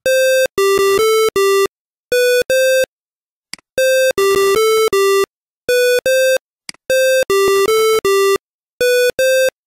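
Arduino tone() output played through a simulated piezo buzzer in the Wokwi simulator: loud, clean electronic beeps in short bursts of varying pitch, separated by brief silences, with a couple of faint clicks in the gaps.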